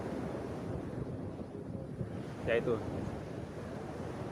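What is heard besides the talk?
waves on the beach at Nipah Beach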